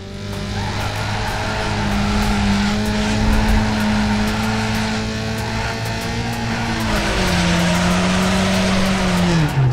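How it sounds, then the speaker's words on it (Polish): A Peugeot 106 drifts in the racing game Need for Speed Underground 2, its engine droning loud and constant while a long tire squeal rises and bends in pitch through the slide, with no voices. "Ja wam pokażę jak się driftuje w undergroundzie."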